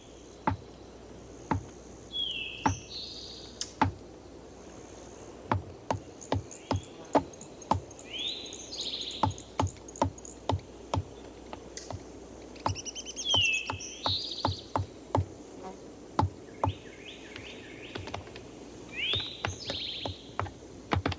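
Woodpeckers in the Okefenokee swamp give short, scattered calls and chirps over a quiet background, mixed with sharp, irregular taps spread through the clip.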